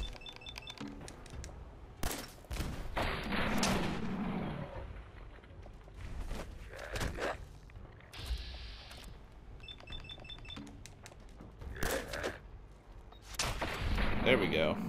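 Gunfire in a post-apocalyptic wasteland shooter game rings out as several loud, sharp shots spaced irregularly across fifteen seconds, with echoing tails and rumbling background noise between them.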